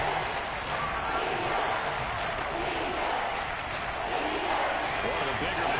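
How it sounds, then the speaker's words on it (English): Stadium crowd noise from a Madden football video game, a steady loud roar of cheering that holds evenly throughout as a big third down approaches, with a commentator's voice running over it. "The crowd getting into it as we come up on a big 3rd down"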